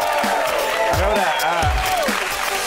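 Studio audience applauding during a Catalan radio show, steady clapping throughout while someone talks over it.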